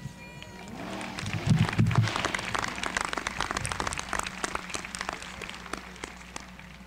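Applause from a graduation ceremony audience, swelling to a louder burst early on and then continuing as a looser, uneven patter of claps with crowd murmur and faint voices underneath.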